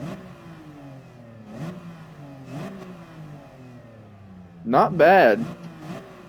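A stock 2003 BMW M3 in Gran Turismo 7 revs repeatedly, rising engine pitches climbing and falling in several pulls, with a louder sharp rev burst near the end; someone speaks briefly over it.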